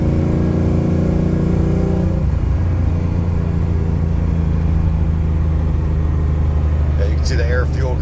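Ford truck with an EFI 460 V8 driving in fourth gear, a loud steady engine drone and rumble heard from inside the cab, with a pitch shift as the gear changes.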